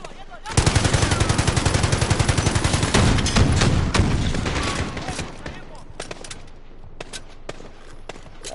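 Rapid automatic gunfire in Call of Duty Modern Warfare, a loud sustained burst of rattling shots for several seconds, then tapering into scattered single shots and sparse cracks.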